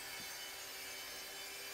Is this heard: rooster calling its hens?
no